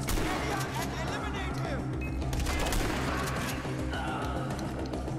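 Shotgun blasts and other gunfire in Far Cry 4 are heard as steady loud combat noise for several seconds, with a voice talking over it.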